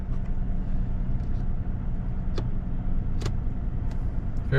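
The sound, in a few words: car engine running after startup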